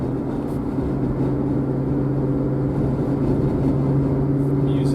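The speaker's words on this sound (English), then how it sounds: "there's a loud car." A loud car rumbles steadily nearby for several seconds, a low continuous engine drone with no talk over it.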